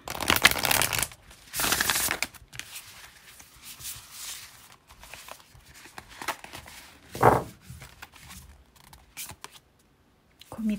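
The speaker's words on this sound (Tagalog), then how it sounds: "Pero kukuha lang ako ng baraha." Tarot cards are shuffled and handled in a few loud, papery bursts separated by quieter rustling and soft taps, with no talking.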